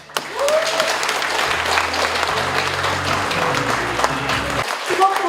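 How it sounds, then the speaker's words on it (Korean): An audience applauds at a Korean novel's book launch, a loud, steady roll of many hands clapping for several seconds, with a low hum and a few faint voices mixed in beneath. "고마운 박수를 올립니다."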